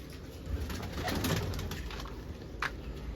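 Pigeons coo softly amid a busy, noisy outdoor background, with a brief sharper sound near the end.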